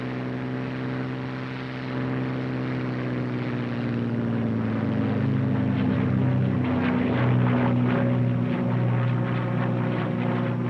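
A P-51 Mustang propeller fighter plane on its takeoff run, a steady droning engine roar that builds slightly in loudness and holds, heard alone without voices.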